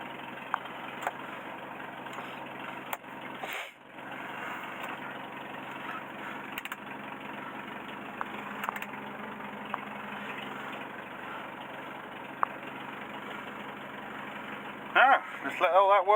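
A Mercedes W115 engine running and warming up after three years unstarted, a steady low idle hum with a brief dip, a few small clicks and a short voice near the end.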